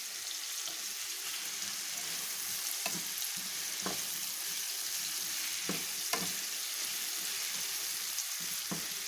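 Cucumber, carrots and paprika sizzle steadily in a pan while being sautéed, with occasional soft knocks of a utensil stirring through, close and continuous, no talk.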